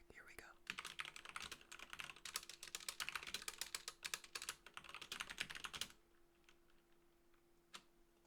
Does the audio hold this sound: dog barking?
no